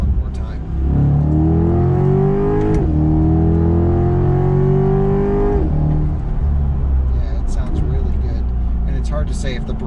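Corvette C8 Z51 with a naturally aspirated 6.2-litre V8 revs hard, its pitch climbing in two long sustained pulls before dropping back, loud and close, with a voice briefly heard.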